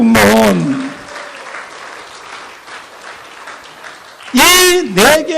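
Audience at a Gwangju church rally clapping in a sustained, steady round between bursts of someone speaking loudly into a microphone at either end.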